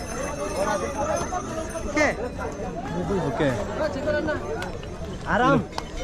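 Horses clip-clop along the Kedarnath trail toward Gaurikund, their hoof falls intermittent and mixed into busy chatter from pilgrims and handlers, with people talking close by.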